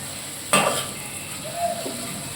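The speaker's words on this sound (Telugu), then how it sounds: "2 ఉల్లిగడ్డలు, ఒక 6 పచ్చిమిర్చి, బగారా వేసినాను" Onions and green chillies hit hot oil in a tempering for fish curry, giving a sudden burst of sizzling that settles into a steady frying hiss, with a faint stirring scrape near the end.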